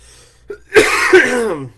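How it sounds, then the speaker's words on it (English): A single harsh lingering post-COVID cough bursts out after a short quiet pause, close and fairly loud, trailing off into a raspy throaty exhale. "the random cough that's still continuing from my round of COVID"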